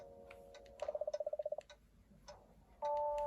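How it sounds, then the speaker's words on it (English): Cuckoo clock in a video game gives a rapid run of about a dozen evenly spaced ticking pulses, followed by scattered faint clicks and then a sustained bright tone at the end, all without talk. "We've got perhaps a cuckoo clock of doom here."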